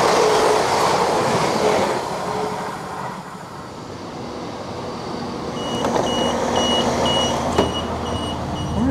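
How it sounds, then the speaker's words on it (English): An EMR passenger train bound for Nottingham pulls into the station, a steady rolling rumble and rail noise building toward the end, with brief high-pitched squeal tones near the close. "here's the first train"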